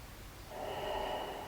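A single slow exhale through the nose during a yoga breathing exercise, a soft breathy rush that swells for about a second, close and quiet.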